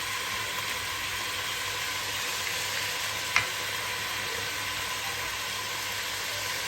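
Packet nihari spice masala fries in hot oil with a steady, even sizzling hiss, close and continuous, broken once by a single sharp click of a spoon or pan.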